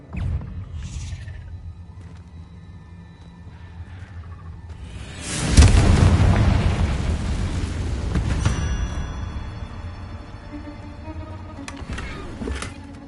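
Confringo fire spell in a wizard video game, a deep rumbling blast that swells after a quiet start, with a whooshing burst that decays slowly over several seconds.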